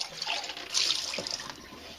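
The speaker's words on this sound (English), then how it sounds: "rinse it out with water" Water runs from a tap to rinse out an electric milk frother, splashing and gurgling irregularly with a brief louder surge midway, close by.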